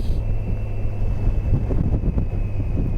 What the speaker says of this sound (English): And what a terrible wind.